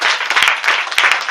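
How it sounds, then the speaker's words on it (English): A church congregation claps together during a morning service, a brief, dense burst of applause that is close and loud. "give him hand of clap this morning."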